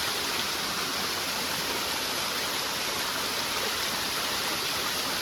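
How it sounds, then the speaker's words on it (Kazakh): Spring water pouring steadily into a 5-litre container up in the mountains, a continuous broadband rush with no pauses, moderately loud and close. "5 литрге су ағып тұр."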